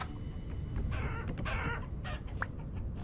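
Several farm hens cluck and squawk in a survival crafting game, a close cluster of agitated calls and wing flurries over about three seconds, with no speech.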